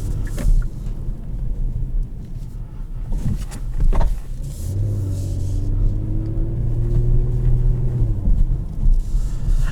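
A 2021 Kia Stinger GT engine rumbles nearby, then revs up with a rising, growling note that holds for several seconds before easing off.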